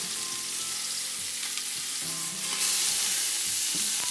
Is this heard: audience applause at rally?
no